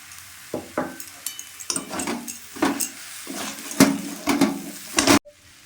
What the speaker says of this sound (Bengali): নারকেল কোড়াটা সবসময় নাড়তে হবে যাতে না ধরে যায়।